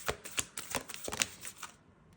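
Tarot cards being shuffled during a love reading, a rapid series of crisp papery riffles and flicks over about two seconds, close and fairly quiet, ending in silence.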